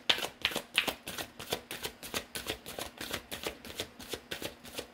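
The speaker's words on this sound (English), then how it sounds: "One more shuffle, just in case." Tarot cards riffle and snap through repeated shuffles, a dozen or so quick crisp bursts in an even rhythm, close and clear with no talking.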